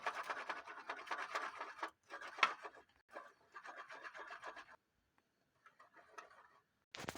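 Adhesive gum rubbed by hand onto the bumper foot of a cycle pump, giving close, scratchy rubbing strokes in rhythmic bursts separated by short pauses, with no talking.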